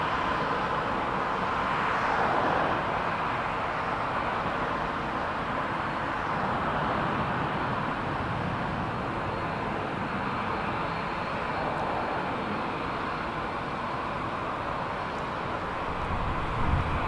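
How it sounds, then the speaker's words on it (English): Airbus A320 landing at Toronto Pearson airport, a steady broad jet roar heard from some distance, holding at a constant level throughout without any talk over it. "A320 about to touch down ahead"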